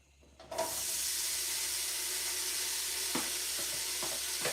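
A steady loud sizzle of food frying in a hot pan starts abruptly and continues, with a few faint clinks of stirring underneath.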